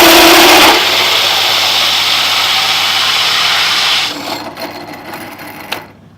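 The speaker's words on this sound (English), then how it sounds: "And then start to drill your hole," A power drill whines loudly and steadily while boring a hole in wood, then the pitch drops and the motor winds down with a few bumps and rattles near the end.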